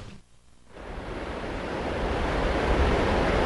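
Rough ocean surf and strong wind roar along the coast of Curimao during a typhoon, the rushing noise swelling and growing steadily louder with no voices present.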